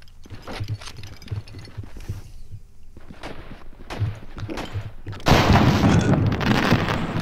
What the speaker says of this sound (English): Hey, you made fireworks!